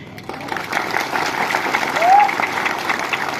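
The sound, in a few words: crowd applauding at a rally speech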